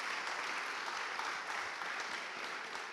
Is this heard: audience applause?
yes